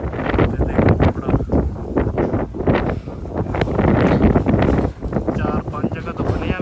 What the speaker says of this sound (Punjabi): ਬਹੁਤ ਤੇਜ਼ ਹਵਾ ਚੱਲ ਰਹੀ ਹੈ